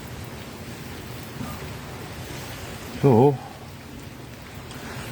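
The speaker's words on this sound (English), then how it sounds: "I'm just going to sit here for a moment and listen to the rain" Steady rain falling outdoors near a house, a continuous soft hiss throughout, with a brief spoken word partway through.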